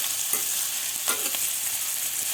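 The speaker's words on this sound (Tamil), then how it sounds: "நம்ம கொத்தமல்லியை சேர்த்துட்டு அதோடைய பச்சை ஸ்மெல் போகிற வரைக்கும் நல்லா நம்ம வந்து வதக்கி விட்டுடணும்" Fresh coriander sautéed in a pan for oats peanut chutney gives a low, steady sizzle, broken by a couple of brief spatula scrapes, close and moderately loud, with no voices.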